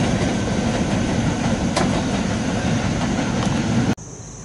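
An eastbound double-stack freight train passes on Main 1 at Lewistown Junction, Pennsylvania, a loud, steady rolling rumble with faint wheel clatter that cuts off abruptly near the end.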